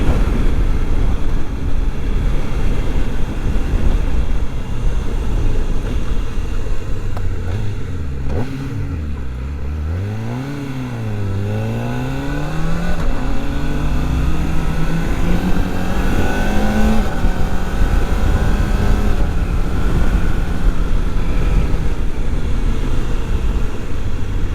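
Kawasaki Ninja ZX-4RR motorcycle engine, loud and close, a steady high-revving roar that dips and swoops through sharp rev changes midway, then climbs back to a sustained scream, no talking.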